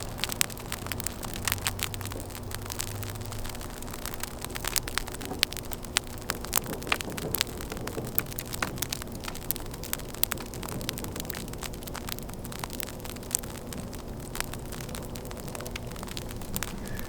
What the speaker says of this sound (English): Can you hear it crackling? The ice melt ASMR.